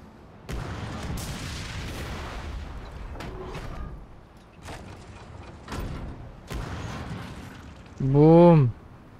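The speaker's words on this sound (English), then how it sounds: "It shoots some cannon." Several booming cannon shots with rumbling tails in Skull and Bones gameplay, followed near the end by a loud whistling, wavering tone.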